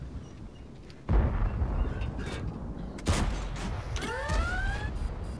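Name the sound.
tank cannon firing in video game World of Tanks, T-62A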